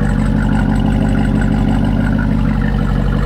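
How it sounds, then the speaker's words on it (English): A loud, steady rumble of a Jeep Rubicon's V8 engine idling close by through dual exhaust, deep and throbbing with a constant low exhaust drone. "Nothing sounds like the V8 engines in these things. The dual exhaust."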